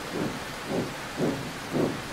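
Rain with thunder on a wet day: a constant hiss of rainfall with four soft, rhythmic low rumbles swelling at regular intervals, moderately loud and steady throughout, no voices.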